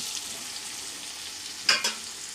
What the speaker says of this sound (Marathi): थोडंसं त्याला छान असं परतून घ्यायचं जेणेकरून चांगला मसाला त्याला लागेल